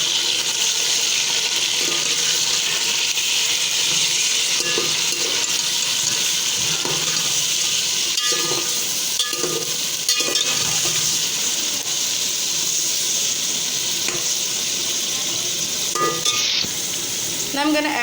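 Green chili paste roasts in a pan for egg biryani, giving a steady sizzle with intermittent stirring scrapes and light clatter throughout, close and moderately quiet.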